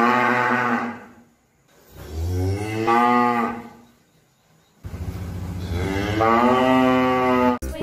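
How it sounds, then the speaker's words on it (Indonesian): A cow moos in two long, loud, drawn-out calls close by, each rising and falling, separated by a brief pause, with no talk over them. "di sini ada sapi"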